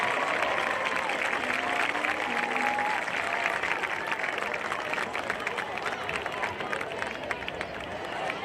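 Crowd applause at a high school football homecoming, a broad steady roar of clapping and cheering heard from a distance, with a voice faintly present over it throughout.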